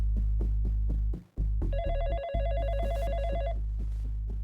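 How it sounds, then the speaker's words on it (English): An office telephone rings with an electronic trilling bell over a steady low hum, one long burst lasting about two seconds, near and fairly loud, with no speech. "the phone rang"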